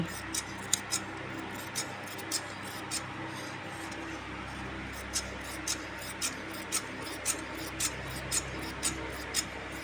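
Scissors cut churidar fabric in a steady series of crisp, close snips spaced about half a second apart, over a low background hum.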